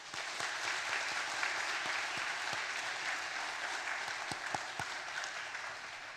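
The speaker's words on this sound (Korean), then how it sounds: "우리 목사님에게 감사의 박수를 한번 드리시죠." A church congregation applauds its pastor at a Korean worship service, a steady dense round of clapping with a few distinct close claps popping out near the end, fading slightly at the close.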